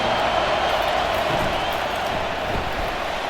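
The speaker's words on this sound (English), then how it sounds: "Listen to the crowd energy here in the early going." A stadium crowd in the College Football 25 video game gives off a dense, constant roar, loud and even throughout, during a Clemson versus Georgia game.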